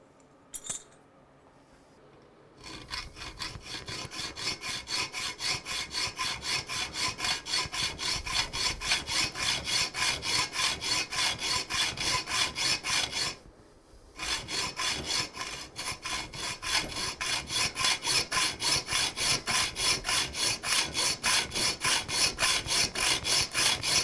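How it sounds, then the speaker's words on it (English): Hand saw cutting drilled metal parts for a 2-inch scale Fowler showman's traction engine model, clamped in a vise; steady rapid back-and-forth strokes run continuously, close and loud, with a brief pause midway. "get the vise out and trim them off to length where I've marked them"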